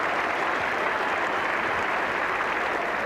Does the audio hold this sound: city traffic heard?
no